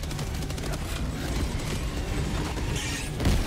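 EMS mortar from Helldivers 2 deploying amid dense, continuous battlefield noise, with a rolling barrage of rapid blasts and mechanical clatter loud throughout and a heavier thump near the end.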